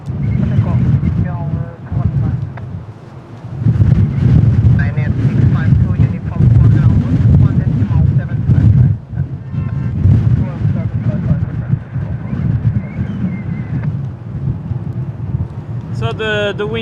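Strong wind buffets the microphone at Lisbon Airport, a loud continuous low rumble with gusting surges that persists throughout, with no break in the roar.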